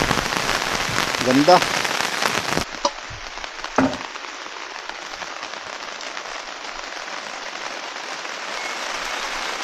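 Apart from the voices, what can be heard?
rain falling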